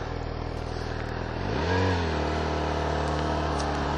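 A Yamaha R6 motorcycle engine idles, then revs up and pulls away, its pitch climbing steadily and staying close and fairly loud.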